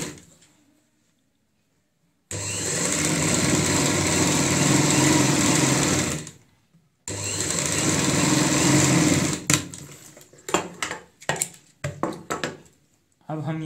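A sewing machine runs close and loud as a zip is stitched onto a ladies' purse, in two long continuous runs separated by a short pause, followed by quick stuttering bursts.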